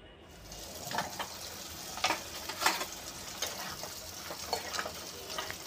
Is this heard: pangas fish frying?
yes